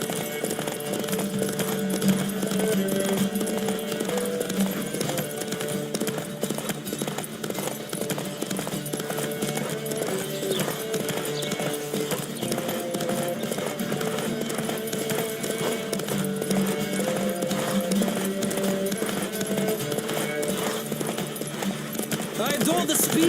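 Galloping horse hooves in The Witcher 3 thud in a quick steady rhythm during a race, continuing throughout over a bed of music.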